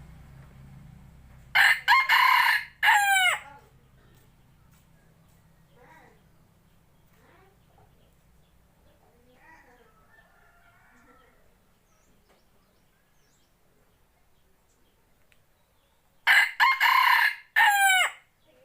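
A young second-generation decoy fighting rooster crows loudly twice, once near the start and again near the end, with quiet background and faint clucks in between.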